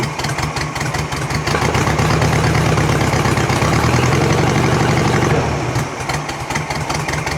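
An old buggy engine, roughly 45 years old and misfiring on one cylinder, idles loud and close with a steady, slightly uneven rumble that swells a little in the middle before settling.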